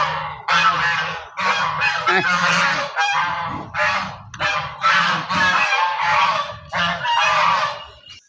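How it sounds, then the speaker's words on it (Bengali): A backyard flock of domestic geese honks almost without pause, loud close calls overlapping in a dense, raucous chorus that rises and falls in uneven bursts, with no voices. "রাজহাঁসের ডাক দেখছেন"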